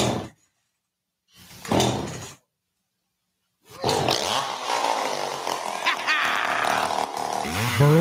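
A chainsaw in a radio advert for a chainsaw shop: two short bursts separated by silence, then a loud, sustained roaring run that fills the rest of the clip.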